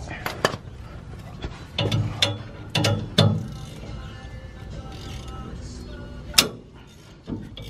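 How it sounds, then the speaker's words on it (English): A ratchet fitted with a 14 millimeter socket works at a bolt underneath a Toyota Mini, giving several short, close bursts of clicking pawl strokes separated by pauses, with a sharper metallic knock near the end. "uses the ratchet with the 14 millimeter"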